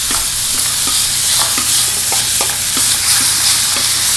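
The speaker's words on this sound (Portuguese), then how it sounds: "Vamos refogar a carne." Meat sizzles and fries in a hot pan, a constant loud hiss broken by regular scraping stirs from a utensil, with no voices over it.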